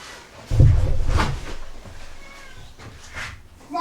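A pet cat named Tom meows loudly up close in a workshop beside an old 1986 Husqvarna 181SE chainsaw, followed by a few quieter trailing cries and faint rustling.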